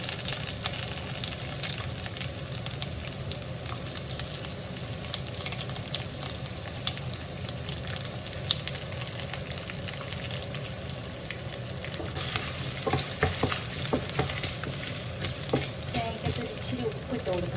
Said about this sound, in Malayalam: തേങ്ങ വറുക്കാം